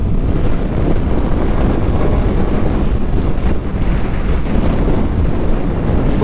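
Wind roaring and buffeting against a rider on a 2024 Honda CBR650R motorcycle, a loud steady low rush of turbulent air that fills the whole passage without pause.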